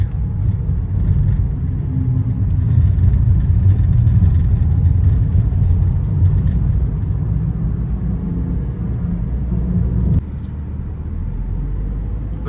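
Tata Tiago AMT hatchback rolling downhill on a hill road, a steady loud engine and road rumble from inside the cabin with slight shifts in pitch and a sudden drop in level near the end, no talking.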